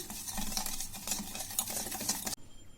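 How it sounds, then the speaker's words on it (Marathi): A sugar mixture for gujiya filling being stirred in a bowl, with a close, steady scraping and rustling that stops abruptly near the end. "फक्त त्यामध्ये थोडं मिक्स करून घ्यायचे आपल्याला"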